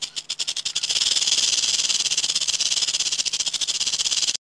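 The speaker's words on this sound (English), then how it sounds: "Rattlesnake." A rattlesnake shakes its rattle in a fast, continuous, hissing buzz. It starts with a few separate pulses, then holds a steady close-up rattle for about four seconds before cutting off abruptly.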